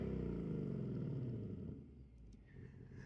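A Ford Mustang GT's 5-liter V8 rumbles low and throaty after a remote rev, the deep engine note strong at first and then settling to a quieter idle, heard alone without voices.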